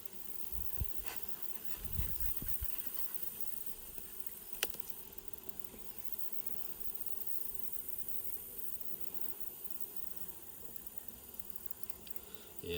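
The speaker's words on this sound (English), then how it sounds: "Lots of bees packed in here." Honeybees packed on frames inside a hive during a fall inspection in Harnett County, North Carolina, give a low, steady, continuous hum. It stays faint, with a few soft bumps and no talking.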